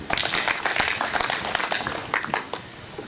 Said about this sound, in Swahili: Tumongeze makofi.